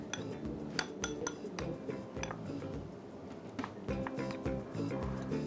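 A spoon clinks repeatedly against the side of a bowl while stirring a mixture for zucchini rosti, with irregular close taps and scrapes over a steady low background hum.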